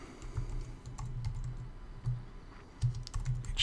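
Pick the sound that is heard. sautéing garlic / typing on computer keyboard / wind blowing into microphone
typing on computer keyboard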